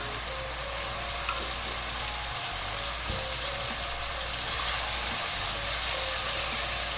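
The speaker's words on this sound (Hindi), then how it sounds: "अभी आलूओं को हम सिर्फ मिर्च के साथ और नमक के साथ अच्छी तरह फ्राई करेंगे" Potato pieces frying in cooking oil with green chillies and salt, a dense continuous sizzle with faint scattered crackles and a light scrape of a spoon, close and steady throughout, nobody speaking.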